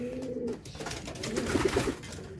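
Racing pigeons coo softly in a loft, several low, throaty rolling calls overlapping close by amid light background rustle.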